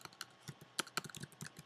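Computer keyboard keys are tapped in a quick, uneven burst of light clicks, faint and close, with no voices.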